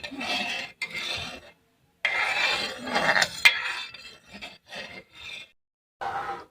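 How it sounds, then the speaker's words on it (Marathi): A spoon scrapes and rubs around a pot of sweet-sour yogurt kadhi on low heat in short bursts, each lasting a second or so, with brief quiet pauses between them. "पाच मिनटं असं ढवळत राहायचं आहे आणि गॅस कमी ठेवायचा आहे"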